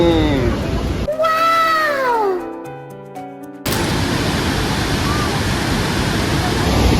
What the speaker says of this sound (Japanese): こんな感じで割とね滝がね近くに見えるような場所に来ました。